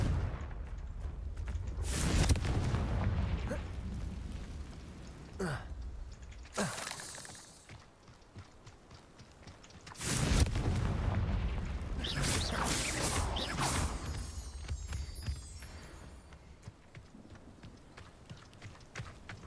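Heavy explosive blasts from the Confringo spell in Hogwarts Legacy boom out in several loud bursts separated by quieter stretches, each with a broad, rumbling burst and trailing debris noise.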